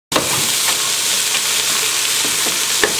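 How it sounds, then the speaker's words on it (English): Vegetables sizzle in hot olive oil in a pan with a loud, steady hiss that starts abruptly and carries on without a break, with faint stirring clicks. "Now that the veggies are cooking,"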